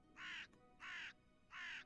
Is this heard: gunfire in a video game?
no